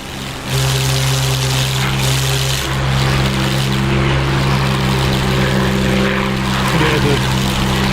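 A Spitfire-era propeller fighter engine droning in the DCS flight simulator, a loud, steady hum throughout with someone talking over it.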